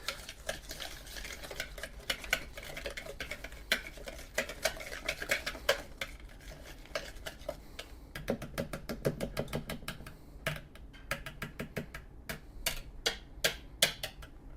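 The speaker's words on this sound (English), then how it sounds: "Now I'm going to use this whisk to try to get this mixed up nice." A whisk clatters and ticks rapidly against a bowl while mixing seasoning with black pepper, a steady run of close, sharp metallic taps that grows brisker and more spaced toward the end.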